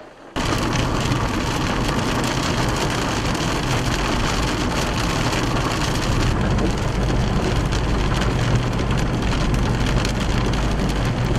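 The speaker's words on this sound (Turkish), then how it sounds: "Edirne'de altyapı yetersizliği ve bozuk yollarda 5 dakikalık sağanaktan dolayı biriken sular sebebiyle sürücüler ilerlemekte güçlük yaşadı." A heavy downpour in Edirne pours steadily onto waterlogged streets, a loud continuous hiss of rain hitting pooled water that keeps up without pause from just after the start to the end.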